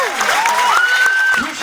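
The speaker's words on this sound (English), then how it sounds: "Give a warm applause to the finalists" Audience applause for two finalists at a European freestyle football championship final, with steady clapping and crowd noise running throughout while a loud whistle-like tone sweeps and holds above it.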